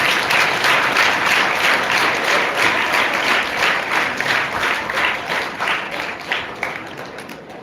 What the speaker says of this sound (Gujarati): જોરદાર તાળીઓ સાથે